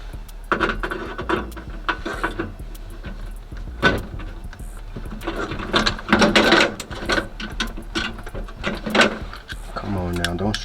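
A stubborn screw on a Cutlass car door is worked with a tool, producing repeated ratcheting clicks and grinding bursts at close range, with a voice speaking over parts of it.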